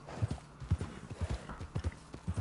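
Horse hooves clip-clop in a steady rhythm in Red Dead Redemption 2, each cluster of hoofbeats sharp and close, with a tired horse carrying its rider along.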